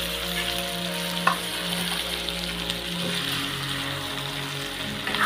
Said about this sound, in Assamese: এতিয়া মই এইখিনি আকৌ এবাৰ লৰাই ল'ম।